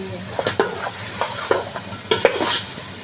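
Pieces of salted, parboiled mutton go into a hot pan, giving a few quick clattering drops and scrapes over a light sizzle, close and fairly loud.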